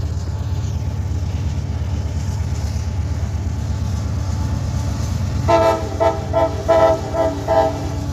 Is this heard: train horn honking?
yes